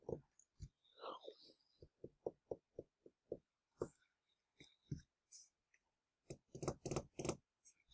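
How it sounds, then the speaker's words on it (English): A keyboard and mice being handled on a cleared desk, giving a quiet run of close, sharp clicks and taps in an irregular rhythm, with a denser cluster of clicks near the end and no talking. "Touching all these items around me. Keyboard, mouse, another mouse, TV."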